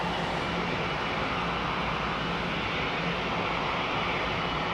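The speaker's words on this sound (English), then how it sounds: "Look at this lovely United 777," A United Boeing 777 in the old livery at London Heathrow Airport gives off a steady, loud broadband jet roar that holds evenly throughout, with no talking.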